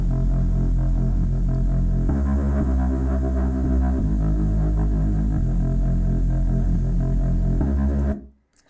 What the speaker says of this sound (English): Now, the bass line is a classic Reese bass, which sounds like this.